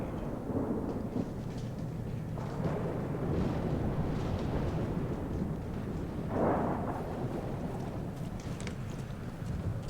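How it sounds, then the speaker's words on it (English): Deep rolling thunder rumbles steadily through a stormy scene in the Lord of the Rings: War in the North video game, a continuous low roar with a louder swell partway through and no talking. "you hear that thunder?"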